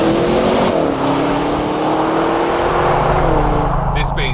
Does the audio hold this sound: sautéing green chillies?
no